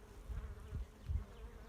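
Honeybees buzzing on the comb in a hive, with a few larger drones among the workers; a low, faint, steady hum with small swells, no voices.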